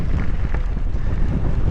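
Strong wind buffets a camera fitted with a wind guard on the Ash to Kings Canyon mountain bike trail, a loud, continuous low roar and rumble.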